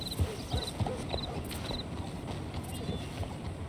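Horse hooves clip-clop at a walk in Red Dead Redemption 2, an even sequence of fairly close hoof strikes over a low game ambience, with faint chirps above.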